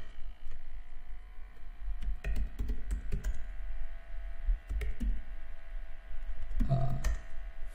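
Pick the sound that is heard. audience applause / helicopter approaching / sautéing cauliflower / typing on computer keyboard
typing on computer keyboard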